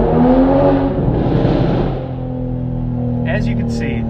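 A 2019 Toyota Supra with a BCP tune accelerates hard at full throttle, its engine droning loudly and steadily, then easing into a lower hum as a brief high whine rises near the end.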